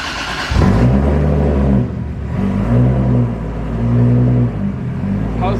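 A car fitted with a four-speed dogbox revs hard in loud, rumbling bursts while its tires spin, the engine rising and falling several times close by.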